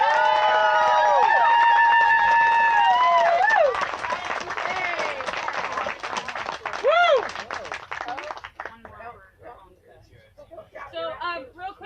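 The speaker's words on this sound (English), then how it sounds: "Give them a round of applause." Crowd applause builds under a sustained note and voices at a closing court event, then continues as scattered clapping and cheering with babble, tapering off near the end.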